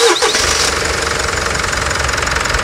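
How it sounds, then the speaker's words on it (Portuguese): A 2019 Mitsubishi Triton's 4N15 diesel engine cranks briefly and catches, settling into a loud, rough idle with a steady rhythmic knocking close by. "Partida, melhor, por favor. Olha, moçada. Motor Mitsubishi"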